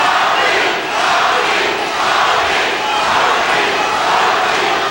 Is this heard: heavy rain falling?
no